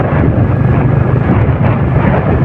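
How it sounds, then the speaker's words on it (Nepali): Cold wind buffets a jacket during an off-road motorbike ride from Rakam to Manma in Nepal, producing a loud, steady, rumbling roar close to the microphone throughout. "कस्तो चिसो हावा लगाइरहेछ"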